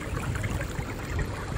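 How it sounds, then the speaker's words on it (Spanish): Overflowing sewer water runs down a street in a continuous rushing, trickling wash, close and fairly loud, with no voices. "Cómo se va el agua de la cloaca por la calle."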